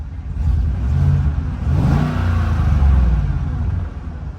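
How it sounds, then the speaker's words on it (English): A high-mileage OBS Ford F-150 pickup engine revving once, a close, loud low rumble that rises and swells then holds before easing slightly. "We'll give it one more little rev here."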